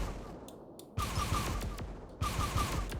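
The Cradle Fire weapon in the bullet-hell game Hollow Descent fires in two quick bursts of rapid, punchy shots, each volley cutting in abruptly over a quieter game background.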